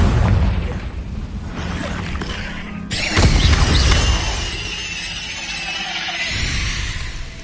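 Bombarda and Confringo spell blasts in the Hogwarts Legacy video game: a loud booming impact with crashing debris, followed by a sustained rumbling roar that slowly fades.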